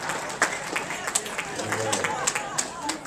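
A crowd at an annual meeting applauds, with scattered claps and a steady wash of hands over a low murmur of voices, sustained at moderate loudness throughout.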